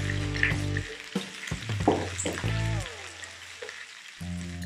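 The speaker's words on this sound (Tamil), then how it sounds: "இப்போ சில்லியை லைட்டாக போட்டு வதக்கிட்டு" Chillies sautéing in a pan for ginger pachadi give off a close, continuous sizzle broken by stirring scrapes, over a steady droning hum in the background.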